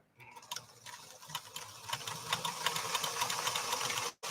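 A PFAFF 360 sewing machine with a faulty stitch-width control runs in a repair shop, giving off an uneven mechanical clatter with irregular ticks and knocks before stopping abruptly near the end.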